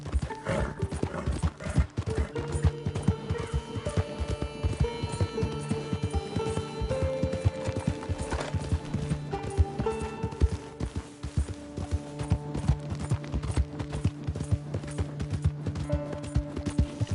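A horse galloping in the Red Dead Redemption 2 video game, with a rapid, steady clip-clop of hooves throughout over sustained tonal background music.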